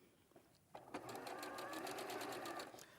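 Sewing machine whizzing down a seam on a craft project, starting abruptly and running in a steady, close, fast stitching whir for about two seconds before slowing.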